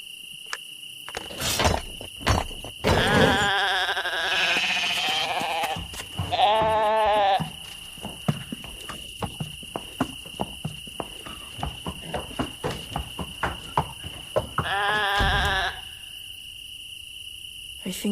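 Sheep bleat in the video game Lost Lands 9, several drawn-out wavering calls spaced across a steady chirping cricket ambience, with soft hoof-like clicks between them.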